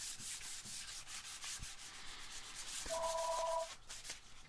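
Steady rasping strokes of hand sanding on wood, a continuous scratchy rub close by with a brief squeak of the tool near the end.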